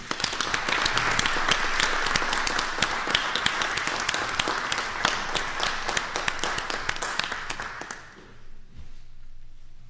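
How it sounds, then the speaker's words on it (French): A council session audience applauds Mathis, honoured for representing his region at the Quebec Games: dense, sustained clapping for about eight seconds, close and full, then stopping abruptly into near silence. "Surtout, on peut l'applaudir."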